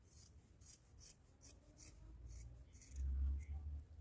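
Scissors snipping fabric while a small doll sofa is made, a series of quiet, close crisp cuts at an irregular pace with soft rubbing of cloth in between.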